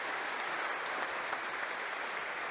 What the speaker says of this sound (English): that always deserves a round of applause